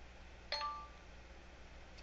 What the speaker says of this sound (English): you hear the bell. That means that it's preparing it on my iPad